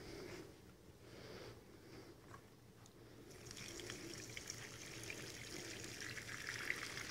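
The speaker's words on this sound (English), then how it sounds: "So I'm gonna pour this water off" Salt water poured off live crawfish after purging, a soft steady stream that grows louder and splashier partway through, outdoors beside a rocket cook stove, with no talk.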